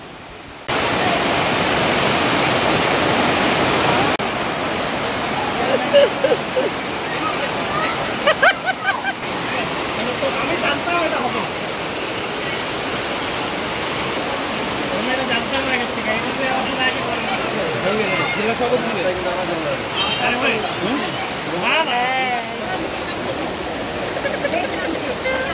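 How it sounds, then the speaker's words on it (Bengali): Torrential monsoon downpour outside during a Bengali wedding reception, a loud, continuous broadband roar of rain pounding without letup, with brief dips and patches of indistinct chatter underneath. "তোমরা আওয়াজে বুঝতেই পারছো বাইরে কতটা বৃষ্টি হচ্ছে।"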